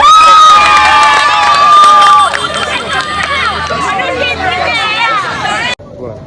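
Rally crowd in a lively mix of cheering, shouting and raised voices, loud and close, with a sustained tone early on and the noise dropping abruptly near the end.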